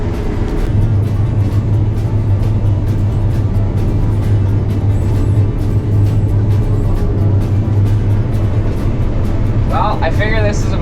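Combine harvester running steadily through a crop during harvest, a loud continuous low mechanical drone and rumble close by, with a brief chatter near the end.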